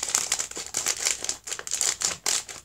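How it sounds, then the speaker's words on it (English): Mini Chupa Chups candy sushi packaging is snipped open with scissors, giving close, crisp plastic crinkling in quick, uneven bursts. "just get some scissors and just open it"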